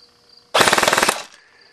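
Killbucket FN 30 airsoft gun fires one short full-auto burst, a loud, rapid, evenly spaced string of shots lasting under a second, close up, over faint background hum.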